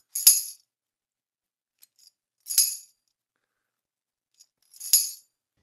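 Three separate tambourine hits spaced about two seconds apart, each a bright jingly burst with a short rattle just before and after, and near silence between them apart from a few tiny ticks.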